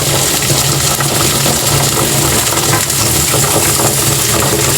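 Water from a home supply with its own purifying system runs noisily in a kitchen, a constant loud rushing hiss that holds steady throughout with no talk.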